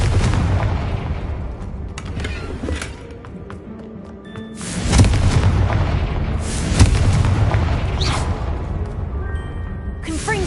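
A Confringo fire spell blast in the Hogwarts Legacy video game, a sudden booming burst followed by a second thump, set against a loud background of game effects and a voice casting spells.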